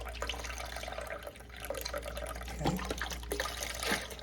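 Beef broth pours slowly into a cooking pot with a soft, steady trickle and splash under a low background hum, faint and close.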